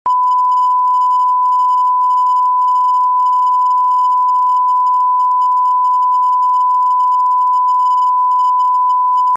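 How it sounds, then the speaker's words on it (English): A loud, steady censor bleep tone on a podcast runs unbroken for about nine seconds, alone, with no voices audible around it. "I'm gonna have to beep that whole thing out"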